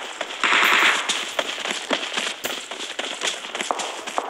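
Automatic gunfire in the mobile battle royale game PUBG Mobile, loud rapid bursts of shots with a sharp opening volley and scattered crackling reports that continue to the end.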